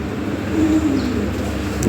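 Lahore pigeons cooing nearby in a low, soft murmur, mixed with a steady background hum and a faint higher chirp near the end.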